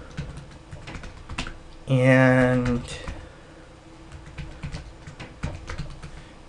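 Rapid clicks of a computer keyboard while a file is renamed, scattered key taps throughout, with someone briefly speaking over them near the start.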